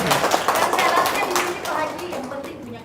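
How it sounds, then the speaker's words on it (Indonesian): Audience members at a seminar clap their hands in a loose, smeared burst, mixed with voices talking over the clapping. "Tepuk tangan."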